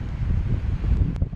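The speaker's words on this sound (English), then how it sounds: "I'm next to a highway and it's quite windy" Gusty wind beside a highway buffets the microphone in low, uneven rumbles, with a brief faint hiss near the end.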